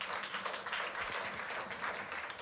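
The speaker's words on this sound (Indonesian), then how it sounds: "Kasih tepuk tangan dulu buat Tuhan." Church congregation applauding during an evening prayer service, a steady wash of clapping at moderate distance with no voices on top.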